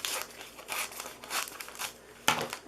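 Cutting down the top of a candy box makes a series of crinkling, papery cutting strokes in an uneven rhythm, close by, with a sharper snip near the end.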